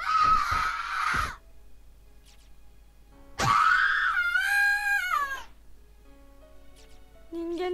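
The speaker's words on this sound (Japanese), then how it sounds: "声とは思えない凄まじい音波のような叫び声。" An eerie, piercing scream from the horror game Corpse Party: Blood Covered, rising and warbling unnaturally like a sound wave rather than a voice, with a sharp burst, a pause, then a longer shrieking wail.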